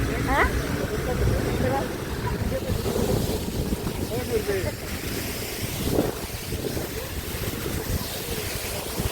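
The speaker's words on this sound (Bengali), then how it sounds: "প্রচন্ড বাতাস হচ্ছে কিন্তু" Strong wind roars and buffets the microphone on a cold mountain road by a waterfall in Sikkim, between Gangtok and Lachung, a loud, continuous gusting rush with a voice speaking over it.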